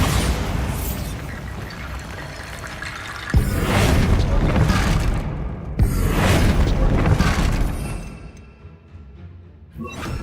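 A Bombarda spell explodes in Hogwarts Legacy: a sustained roaring, rumbling blast with two sharp surges, the second dense and crackling, then it fades toward the end.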